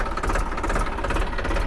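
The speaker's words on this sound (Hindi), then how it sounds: "अब मेरे किसान भाई उस ट्रैक्टर की आप आवाज़ भी सुन लीजिए" A New Holland 3037 TX four-cylinder 39 HP tractor engine running, a loud, close, steady diesel rumble with a rapid knocking pulse throughout.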